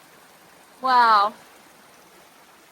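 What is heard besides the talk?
waterfall and stream flowing after rain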